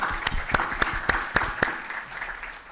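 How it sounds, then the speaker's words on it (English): Round of applause for a keynote speaker at an academic conference, with distinct sharp claps standing out over a dense crowd clapping that swells then gradually fades. "let's give a round of applause for our keynote."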